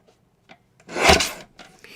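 A paper card panel being trimmed a quarter inch off one side for a cardmaking project: one short, smooth rasping swipe of the blade, close and moderately loud, framed by a few light clicks before and after.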